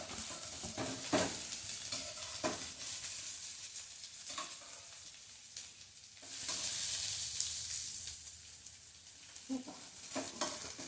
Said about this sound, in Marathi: टोमॅटो किंचित मऊ झाला होईपर्यंत आपण हे परतणार आहोत